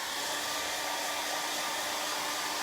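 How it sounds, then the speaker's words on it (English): A handheld hair dryer blows steadily up close to dry a chalk craft project, giving one continuous, loud, even whoosh with no talking. "Let me dry that. Let me dry this"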